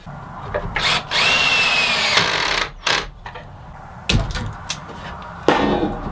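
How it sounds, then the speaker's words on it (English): A power drill drives screws into boards of a reclaimed wooden crate, with several whirring bursts of rising pitch separated by short pauses and knocks, close and loud. "clamp them in place, and screw it together"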